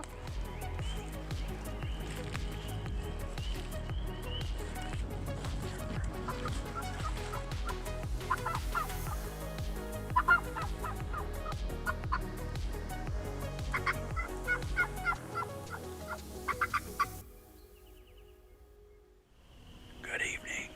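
Wild turkeys gobble in the woods during a spring turkey hunt, the calls rising over hushed whispering from nearby hunters before the sound drops away.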